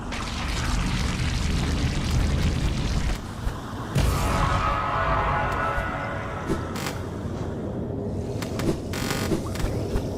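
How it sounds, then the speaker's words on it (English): Heavy rumbling blasts in a dense, noisy game mix, a loud boom hitting around the middle, then crackling debris and scattered impacts. "Explosions do big damage."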